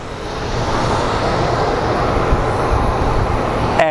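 Airliner departing Sky Harbor International Airport in Phoenix for San Diego, a loud, steady broadband engine roar heard from the ground that holds evenly throughout without dying away.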